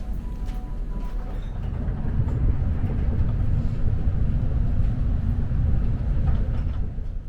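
Steady low rumble of a Swiss tilting passenger train in motion, heard from inside a carriage on the St. Margrethen to Munich route, with continuous loud running noise throughout and no talking.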